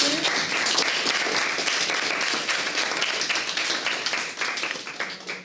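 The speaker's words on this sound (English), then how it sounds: "I guess a round of applause," A group gives a full round of applause during a marketing talk to kids, dense clapping holding steady for several seconds before fading at the end.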